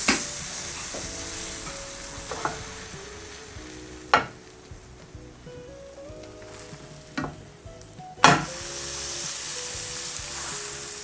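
A Mumbai street-style sandwich sizzles softly as it grills on its second side. A steady low hiss runs under a few sharp clatters and knocks spaced several seconds apart, with faint tonal background sound.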